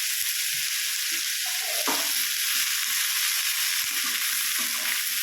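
Curry leaves sizzle in hot oil in a pan while cooking a drumstick and egg thoran, a steady broadband frying hiss with a sharper burst as they hit the oil, close and continuous.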